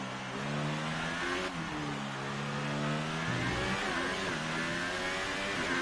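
Formula 1 car from the F1 2018 racing game accelerating hard, a loud continuous engine whine rising in pitch through quick upshifts, heard alone and close.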